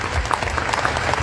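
Crowd applause for Nacho Levi at an outdoor memorial vigil, a brief dense patter of many hands clapping.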